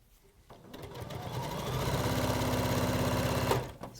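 A sewing machine stitching a hexagon-flower quilt top starts up and settles into a fast, steady mechanical whirr with rhythmic needle clatter, loud and close, then stops abruptly near the end.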